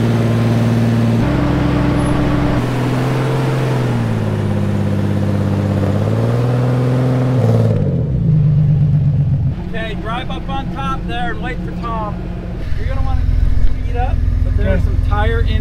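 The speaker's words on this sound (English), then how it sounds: "All right, Rhett, start driving forward." An off-road vehicle engine drones steadily during a trail rescue, its pitch rising and falling as it moves forward, with people talking over the engine in the second half.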